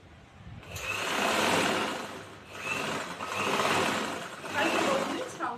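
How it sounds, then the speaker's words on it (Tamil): Sewing machine stitching a strong seam along the neck of a chudithar, running in three long continuous bursts of fast rattling whir separated by brief pauses, close and clear. "கழுத்து பகுதியில் ஸ்ட்ராங் தையல் போடுறோம்."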